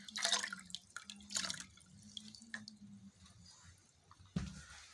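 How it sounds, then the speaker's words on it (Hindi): Cold water trickles and drips through fresh chhena cheese held in a cloth, with faint, close splashes and patters in irregular bursts and no talking. "ठंडा पानी ऊपर से डालेंगे"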